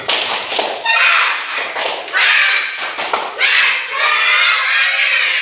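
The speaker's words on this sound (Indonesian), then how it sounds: "Sekarang kita sekali lagi tepuk semangat bareng-bareng ya" A classroom of students stands and performs the 'tepuk semangat' rhythmic clapping chant, loud group clapping and shouted chanting in bursts, close and energetic throughout.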